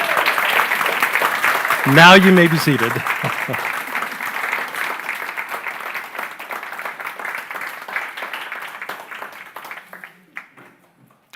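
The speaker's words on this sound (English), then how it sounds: "One more applause. Give them a hand." A crowd at a ceremony claps loudly and steadily, the applause slowly fading near the end, while a voice speaks briefly over it early on.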